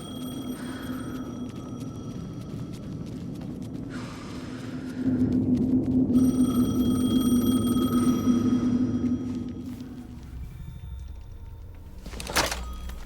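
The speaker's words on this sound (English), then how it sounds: "The phone again." In the video game Alan Wake 2, a phone rings over a dark ambient drone, a sustained tone with a low hum, followed by a mechanical thunk near the end.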